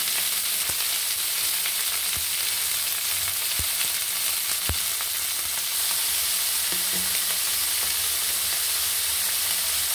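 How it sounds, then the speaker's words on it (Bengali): Ridge gourd, potato, pointed gourd, tomato and green chili fry in a little oil, giving a steady, close sizzle with soft crackles and a few light clinks, and no voices. "ঝিঙে, আলু, পটল, টমেটো, কাঁচা লঙ্কা দিয়ে দিলাম সামান্য তেলে।"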